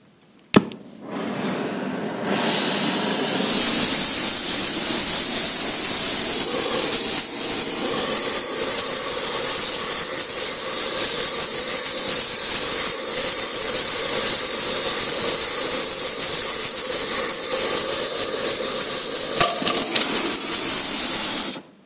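A torch roars steadily for about twenty seconds, heating a stuck hub held in a hub puller on a prototype AM2 holder, a loud continuous hiss with faint metallic knocks near the end.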